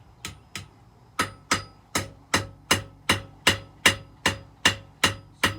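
Hammer blows shaping a steel fire striker at the forge, about a dozen sharp metallic strikes in a steady rhythm, close and loud with nothing else around them.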